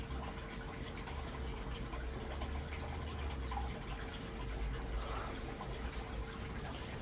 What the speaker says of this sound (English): You see the water pushing around now though.